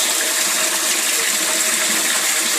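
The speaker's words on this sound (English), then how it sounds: "Most of it is returned to aerate the pond via holes in a pipe along the front." Aquaponics water pumped up from a fish tank streams back into a pond through holes in a pipe, making a loud, steady, close splashing rush that never lets up.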